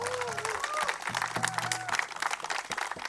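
Wedding guests at a community center applaud in a steady patter, moderately loud, with a voice speaking over it.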